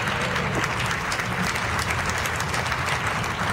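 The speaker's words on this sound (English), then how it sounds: "Please give him a nice round of applause." Crowd at a Tea Party tax day rally applauding, a continuous wash of clapping heard at moderate distance throughout.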